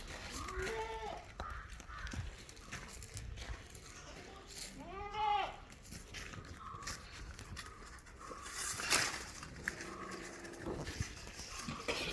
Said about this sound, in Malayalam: ആട് ചെറിയ ആടാണ് പാല് ലിറ്റർ കിട്ടും കുട്ടികളെ പിരിച്ച ആടാണ്